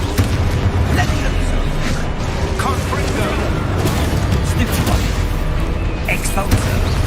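Spell blasts and explosions from the Hogwarts Legacy video game boom repeatedly in a dense, loud combat mix, with a player calling out spell names over the action.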